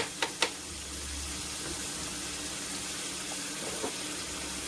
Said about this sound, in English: So now I'm gonna wash my rice.